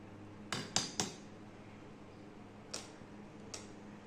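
Knife poked into steamed khaman dhokla and tapping against the metal steamer plate, a few sharp clicks in a quick cluster, then two more isolated taps, close but faint in a quiet room.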